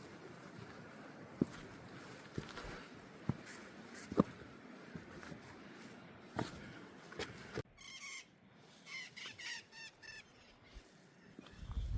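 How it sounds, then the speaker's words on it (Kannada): Parrots squawking among trees near El Chaltén in Argentine Patagonia, with scattered sharp calls early on and then a burst of harsh, rapid repeated cries near the end, moderately close over a quiet outdoor background. "ಗಿಳಿಗಳು ಕೂಗ್ತಾ ಇದ್ದಾವೆ ನಮ್ಮನ್ನು ನೋಡಿ."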